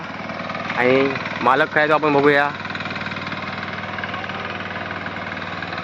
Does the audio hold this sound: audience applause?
no